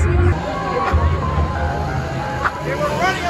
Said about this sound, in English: and there's already quite a crowd with us.